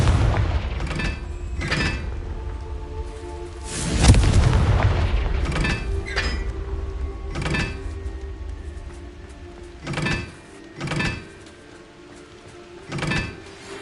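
A Confringo blast erupts in Hogwarts Legacy, a loud booming burst followed by a sequence of sharper impacts and thuds spaced across the scene, fading to quieter pops near the end.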